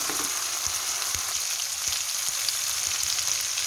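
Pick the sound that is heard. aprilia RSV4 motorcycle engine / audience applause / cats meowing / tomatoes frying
tomatoes frying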